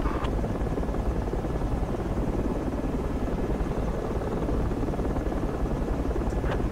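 Helicopter in a multiplayer shooter video game, a loud, continuous rotor thrum and engine roar held steady throughout, heard alone with no one talking.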